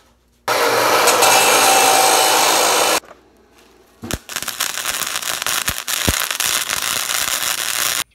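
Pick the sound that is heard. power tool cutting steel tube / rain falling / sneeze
power tool cutting steel tube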